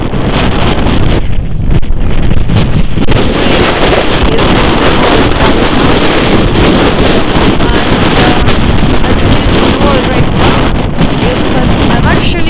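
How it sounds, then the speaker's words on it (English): Gusty wind buffets a microphone outdoors in Brighton, a steady loud roar of rumble and hiss running through the whole stretch with no pause. "it's a little bit windy"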